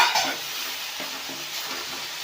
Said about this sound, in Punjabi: ਇਹਦੇ ਵਿੱਚ ਆਪਾਂ ਇੱਕ ਟਮਾਟਰ ਬਰੀਕ ਕੱਟਿਆ ਹੋਇਆ ਇਹਨੂੰ ਹਲਕਾ ਜਿਹਾ 1 ਤੋਂ 2 ਮਿੰਟ ਭੁੰਨਾਂਗੇ